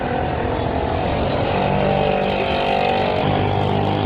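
A new car's engine runs steadily and loud throughout, a continuous motor drone with no talking, fitting a vehicle starting up and driving away.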